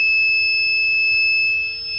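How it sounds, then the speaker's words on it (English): The ignition buzzer of a SANY 8200 crawler crane sounds as a continuous steady electronic tone with the key on, holding loud and even over a low engine-bay hum. "So while I have the key on, you'll hear that buzzer going off."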